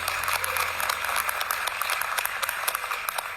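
Applause breaks out for achievers at an office opening in Dubai, a moderate crowd clapping in a continuous, slightly uneven patter with no talk over it.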